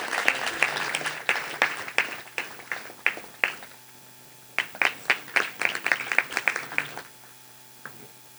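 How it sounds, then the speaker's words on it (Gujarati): Hands clapping in applause for a guest at a devotional bhajan programme's lamp-lighting ceremony; sharp, scattered claps come in two bursts with a short lull between, then die away near the end. "આપણે તાળીઓથી વધાવી લઈએ."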